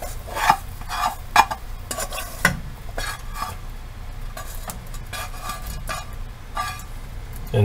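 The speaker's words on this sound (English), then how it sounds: "So what I'm going to do now is I'm going to mix and put the meat" Sausage meat is mixed into a pot of red beans and rice with a run of soft, close spoon scrapes and clacks over a faint simmering hiss.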